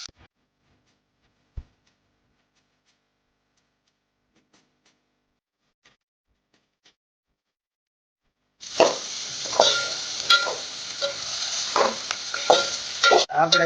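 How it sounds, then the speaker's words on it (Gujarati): Cabbage frying in a pan while being stirred: a long stretch of near silence with a couple of faint ticks, then a loud, steady sizzle with scraping stir strokes that continues to the end. "આપણે જો થોડું થોડું તળી ગયું છે કોબીજ"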